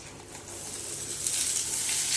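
Amaranth stalks frying in a spiced paste give a steady, close sizzle that builds and brightens partway through and runs alone without talk.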